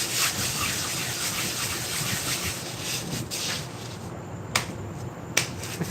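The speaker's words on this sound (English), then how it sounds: "I'm just terrible cleaning the undercarriage of my anvil" Rubbing and scrubbing on the underside of a blacksmith's anvil, a steady close scraping texture throughout with a couple of sharp clicks near the end.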